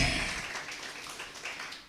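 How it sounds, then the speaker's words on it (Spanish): Applause from a congregation during a Spanish-language church sermon, a brief wash of clapping that starts strong and gradually tapers off. "Una ofrenda, aplauso al que vive."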